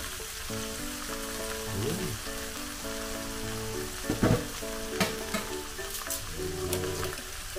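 Pork leg sautéing in its own rendered fat in a stainless Saladmaster skillet for humba, a steady close sizzle with a few sharper pops and utensil knocks, with no talking.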